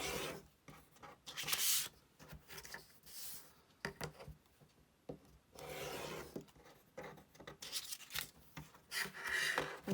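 Scissors cut paper quilt templates in a series of rasping, scraping snips that come in bursts separated by short pauses, close and fairly soft.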